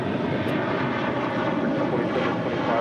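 An American Airlines airliner takes off from runway 25 right at LAX with a loud, steady engine roar that stays close and constant throughout.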